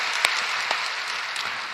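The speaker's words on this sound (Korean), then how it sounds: "여기까지 인도하신 에베네셀의 하나님께 다시 한번 영광의 박수를 올려드리시길 바랍니다." A church congregation at a Wednesday worship service claps in a steady, moderately loud wash of many hands, with a few sharper individual claps standing out.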